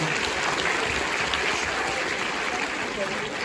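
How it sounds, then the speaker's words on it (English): A crowd at a Liverpool comic con applauds a fan named Jess, steady dense clapping that holds at an even level throughout, with some voices underneath. "Give her a round of applause."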